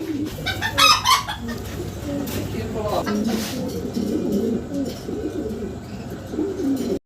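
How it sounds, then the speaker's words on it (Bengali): Pigeons coo steadily and close by, with soft overlapping calls over a faint background murmur. "শুরুতে আমরা দেখতে পাচ্ছি ভাইয়ের কাছে ফিলব্যাক কবুতর আছে"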